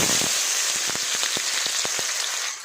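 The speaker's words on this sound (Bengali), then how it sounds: "তেলটা গরম হয়ে গেছে, দিয়ে দেবো হচ্ছে গাজর" Carrots for fried rice dropped into hot oil, a bright, dense sizzle with a quick run of crackling pops and stirring taps that eases off slightly at the end.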